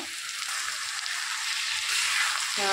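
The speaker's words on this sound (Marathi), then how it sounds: "आपण ही मिक्स करून घेणार आहोत आता।" Sabudana khichdi with sugar is stirred in a hot pan, giving a steady close sizzle with soft scraping from the stirring underneath.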